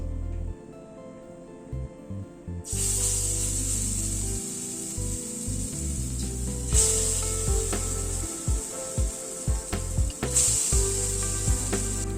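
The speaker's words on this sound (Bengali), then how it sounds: "গ্যাসের ফ্লেমটাকে মিডিয়ামে করে দিয়ে বড়াগুলোকে ধীরে ধীরে ভেজে নেব।" Lentil fritters frying in hot mustard oil in a wok over a medium gas flame: after a quiet start, a loud, steady sizzle bursts in and continues with crackling spatters close by.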